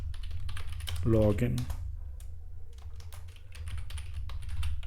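Light clicking on a computer keyboard as HTML code is typed, soft and steady under a person speaking.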